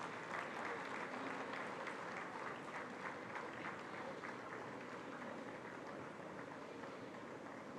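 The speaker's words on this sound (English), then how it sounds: "Please encourage your friends with a big round of applause" Sustained round of applause from a large audience at a university convocation ceremony, steady and dense clapping throughout at moderate distance with no pauses.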